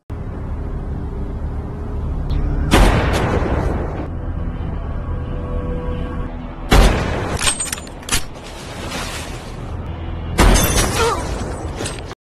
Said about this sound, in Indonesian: Bob segera mengeksekusi semua sniper yang sudah disiapkan oleh Ishak.